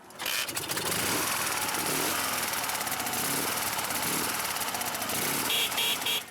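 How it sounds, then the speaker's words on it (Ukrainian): A strong, well-built motorcycle engine runs steadily and loudly close by, a continuous broadband roar with a brief higher whine near the end; no one speaks over it. "Мотоцикл сильний, хороший."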